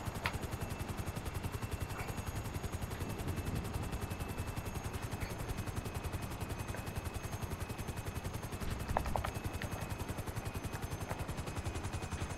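Gunfire and helicopter rotor chop from the GTA V Cayo Perico heist fill the scene with a dense, continuous, loud rattling pulse, sustained throughout without pause and with no speech.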